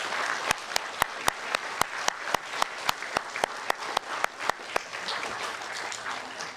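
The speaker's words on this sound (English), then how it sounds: "can you please give all of our families a warm applause for everything that they've done?" Audience at an elementary school sixth grade moving-up ceremony clapping, a steady stream of distinct claps with sharp individual hand slaps standing out, moderately distant in a large room.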